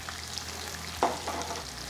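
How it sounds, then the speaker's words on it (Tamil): Thinly sliced onions with green chillies sautéing over a medium flame in a pan, a soft, steady sizzle with a brief louder crackle midway, faint and close. "2 to 3 நிமிடம் இந்த வெங்காயம் நல்லா வதங்கட்டும்."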